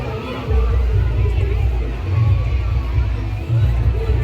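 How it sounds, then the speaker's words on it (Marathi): Crowd noise at the Kokan Mahotsav festival in Kalyan East: a dense, continuous hubbub of many voices over a low rumbling hum, fairly loud and unbroken. "आता तिथं इथं पाहू शकता गर्दी"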